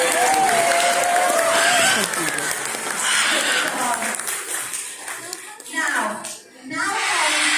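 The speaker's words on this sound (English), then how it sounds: "give her a massive round of" An audience at a parrot show at Longleat gives a round of applause, a burst of crowd clapping mixed with voices and chatter that thins out toward the end.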